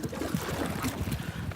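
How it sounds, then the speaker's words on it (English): Strong wind buffets an outdoor microphone, a steady, loud rumbling roar with gusty swells and no clear voices. "it is windy as shit out here"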